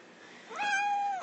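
A pet cat gives a single drawn-out meow, close and clear, rising and then holding steady with a slight fall at the end, with no voices over it.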